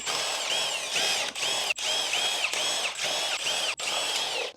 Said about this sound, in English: 16 total bolts that hold this valve cover in, so let's just start zapping them off